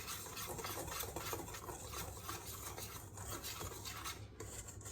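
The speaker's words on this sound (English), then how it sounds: "So here's my dry ingredients. I'm going to give this a whisk." Home-milled flour and other dry ingredients whisked in a bowl, giving a steady scraping, rasping rhythm of wire against the bowl that holds close and even throughout.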